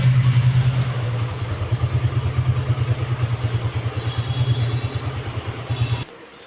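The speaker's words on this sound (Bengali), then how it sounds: "বাইকটি স্টার্ট আছে একেবারে ধুম মাচালের সাউন্ড" A freshly started motorcycle idles with a steady, loud, rapidly pulsing thump close by, running evenly for several seconds before cutting off abruptly at the end.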